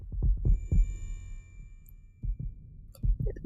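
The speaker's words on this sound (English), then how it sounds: "My intense heartbeat hammered like the hoofbeats of a horse at full gallop." Heartbeat effect from the game 428: Shibuya Scramble, deep thudding double beats pulsing quickly and close, alone apart from a thin sustained tone and a few soft chimes.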